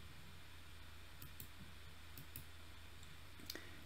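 Faint, sharp mouse clicks, a few isolated ticks spread over a few seconds against a quiet hiss of background noise, with no talk.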